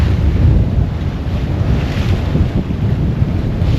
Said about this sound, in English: I'm in the lee of the island. I wasn't expecting this wind.